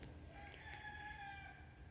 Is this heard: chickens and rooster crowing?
yes